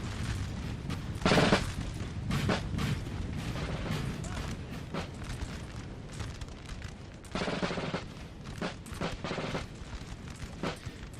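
Musket volleys crack and rattle in a Napoleon: Total War multiplayer battle, with dense bursts of gunfire and booming shots recurring in irregular waves over a constant battlefield din.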